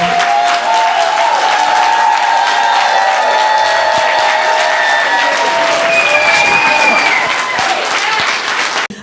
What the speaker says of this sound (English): just give them a great round of applause and stand